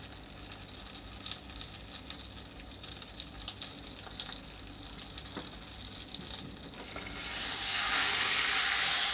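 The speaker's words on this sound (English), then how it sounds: "Whoa, that's sizzling." Toasted sandwich loaded with cheese sizzling in a sandwich maker, a soft crackle for several seconds that suddenly swells into a loud, steady hiss near the end.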